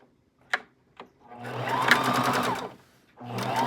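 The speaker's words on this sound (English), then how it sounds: "Just let your sewing machine guide it while you turn the fabric." A sewing machine stitches fabric around a curve in a steady, rapid whir for a couple of seconds, then starts again after a pause, preceded by two soft clicks.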